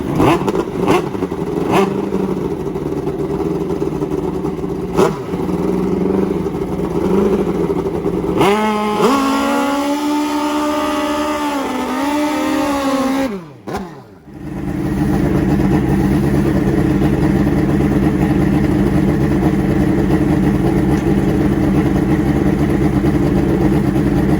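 Nitrous-boosted drag racing motorcycles at the Crossville dragstrip at night, from the 500HP Nitrous 4.60 class, rumble loudly and steadily, with one engine revving up hard in the middle before cutting off abruptly, then a heavy idle resumes.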